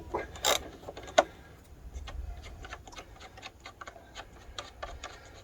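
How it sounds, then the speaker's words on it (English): A 10mm socket ratchet loosening a small bolt on a Dacia Duster 1.5 dCi engine, a quick run of faint, rapid clicking ticks after a couple of louder knocks, close up. "now we're going to use a 10mm socket"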